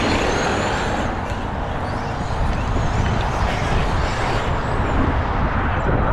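Traxxas XRT and Sledge RC monster trucks race across grass and around corners, giving a steady, loud buzzing motor whine that runs unbroken throughout, with no voices.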